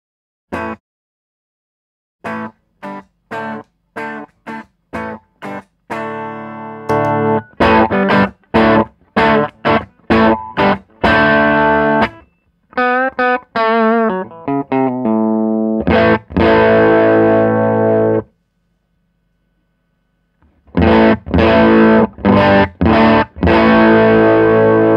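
Electric guitar played through a Donner Boost Killer, a clean boost pedal cloned from the Xotic RC Booster, ringing out loud chords and single notes in bursts with short silent gaps, staying clean and free of distortion.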